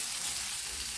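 An arrowroot mixture being stirred in a non-stick pan gives a brief, steady, close frying hiss.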